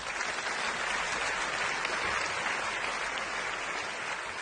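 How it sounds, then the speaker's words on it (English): A crowd at the launch event for a 3D movie, Burning Wells, gives a round of applause, a loud, steady wash of clapping that holds evenly throughout with no voices over it. "Big round of applause."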